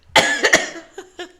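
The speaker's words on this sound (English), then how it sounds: "don't cough in the mic, please" A person coughs loudly and close into a microphone, one harsh burst followed by two quick further coughs and then a couple of softer trailing coughs, all within about a second.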